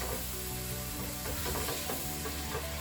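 Ground lamb and onions sizzle loudly in hot oil in a Crockpot Express, a dense steady frying hiss with soft scraping stirs mixed in throughout.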